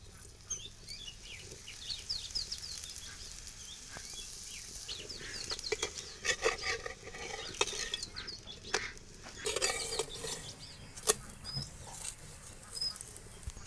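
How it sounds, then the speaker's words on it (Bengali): Oil sizzles steadily in a pan while a potato paratha fries, with scattered crackles and sharp pops, close and fairly quiet. "এবার আমি আরো একটা পরোটা ভেজে নেব"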